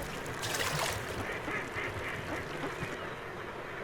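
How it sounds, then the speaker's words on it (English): Ducks clamor at dawn on Lung Lake, a wetland along the Indus Flyway, a dense chorus of overlapping quacks from a flock at middle distance over a steady outdoor background. "competing ducks clamor for their favorite spots."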